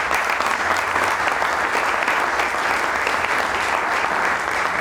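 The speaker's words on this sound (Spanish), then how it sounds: "un aplauso para ellos y ellos" Sustained crowd applause at a nature-rights symposium panel, thick and even for the whole stretch, with no voices rising above it.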